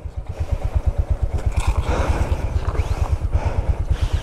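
Royal Enfield Himalayan or Honda CB 350 RS motorcycle riding off-road near Manang, steady rapid thumping engine pulses throughout, close and loud with faint clatter over the rough track.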